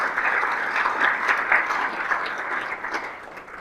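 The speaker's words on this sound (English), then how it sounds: "Let's give them a round of applause" An audience at a 2023 State of the City Address applauds nonprofit groups, a steady wash of clapping from many hands that holds at an even level throughout with no talk over it.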